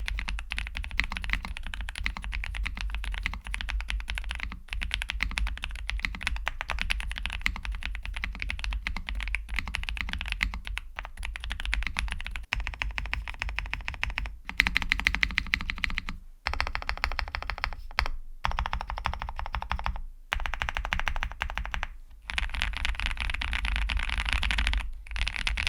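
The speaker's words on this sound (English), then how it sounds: "Let's see how it sounds." Continuous typing on a KBDFans Tiger Lite mechanical keyboard with a 7-unit spacebar, dense close clacks in steady bursts separated by brief pauses, no voices.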